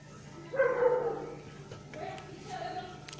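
A dog barks a few times in the background, fairly faint, behind the sizzle and bustle of chicken pulao being cooked in a home kitchen, with a short yelp-like burst near the start and softer barks later.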